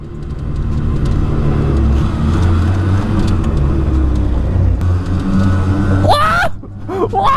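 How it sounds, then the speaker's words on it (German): A Piaggio Ape 50 three-wheeler accelerating in a tunnel, a loud droning small-engine hum with a steady low rumble that echoes, then cut off near the end by a sharp high squeal. "Jetzt machen wir gleich Kickdown im Tunnel."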